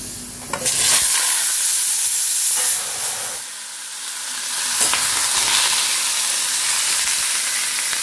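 Potatoes with their skins on and pumpkin fry for a curry in a hot wok. A loud, steady sizzle swells and fades, and stirring scrapes and clatters run through it.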